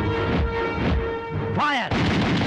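Gunfire in a dubbed Hindi action movie, with a burst of booming shots and a whooshing sweep over a dense soundtrack and voices.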